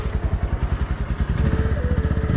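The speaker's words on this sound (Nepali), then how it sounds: "बाइक निकालिरहेछ" A motorcycle being taken out on a rough, muddy mountain track on the way to Ruby Valley in Nepal, its engine pulsing in quick, steady thumps close by with no talk over it.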